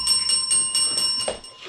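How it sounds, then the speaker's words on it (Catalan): Church bells peal in a quick, bright run of repeated metallic strikes lasting under two seconds, ringing out after the lighting of a church during a children's festival of light. "Tot seguit, les campanes van repicar."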